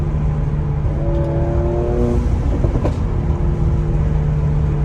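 A 2020 Mercedes-AMG C43 accelerates hard, its engine and exhaust producing a loud, sustained roar with rising tonal whine, heard close from inside the car.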